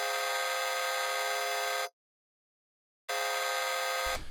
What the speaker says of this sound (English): for the drop synths, we have this sort of 8-bit sound, which is literally, I believe, just a square wave, and it sounds like this.